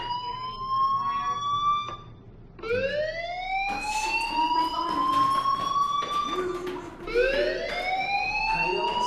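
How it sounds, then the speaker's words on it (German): A school fire alarm in the video game Life is Strange wails in repeated rising electronic sweeps, loud and continuous across several cycles, with no speech over it. "do you hear that fire alarm? That means you should be outside"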